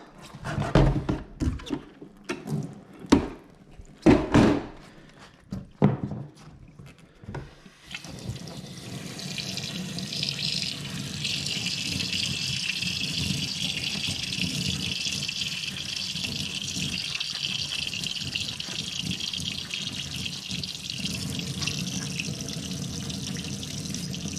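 Water runs from a household tap into a sink, a steady continuous rush that starts after several seconds of clattering handling sounds and keeps flowing evenly to the end.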